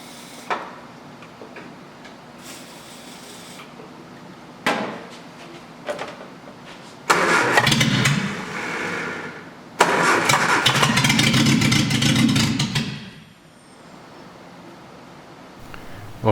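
A newly fitted engine in a 1966 Triumph Spitfire MK2 under restoration makes clicks and short cranking bursts, then catches and runs roughly and loudly for several seconds before dying back to quiet ticking.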